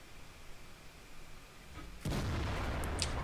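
The Conqueror tank's main gun fires in World of Tanks, one loud booming blast that cuts in abruptly after a quiet stretch and rumbles on through the end.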